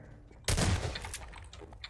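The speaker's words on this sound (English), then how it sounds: "Did you just shoot Master Shrek" Garry's Mod gunfire erupts as a single loud, close burst of shots, then fades into a brief tail.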